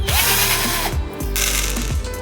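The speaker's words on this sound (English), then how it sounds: "We remove the clamps, unscrew the screws" Screws are unscrewed from the clamps of a large homemade chocolate mould, giving close, loud ratcheting clicks in rapid bursts with short pauses between turns and no talk.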